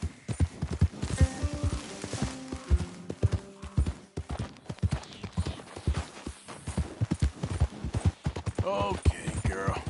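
Horse hooves clip-clop steadily in Red Dead Redemption 2, a rhythmic run of close, fairly loud beats continuing throughout, with a brief whinny and some talk in places.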